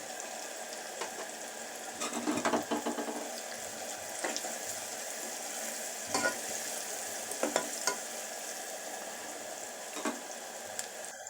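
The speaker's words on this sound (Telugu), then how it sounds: "ఉల్లిపాయ ముక్కలు యాడ్ చేసుకున్న తర్వాత ఒక్క ఫైవ్ మినిట్స్ వరకు కొంచెం ఇలా కలుపుతూ ఫ్రై చేసుకోవాలి" Chopped onions fry in a pan for a masala dondakaya curry, a steady sizzle broken by intermittent scraping stirs of a spoon against the pan.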